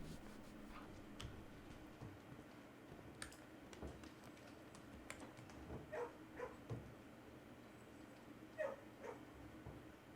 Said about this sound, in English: Pet the dog for the flow.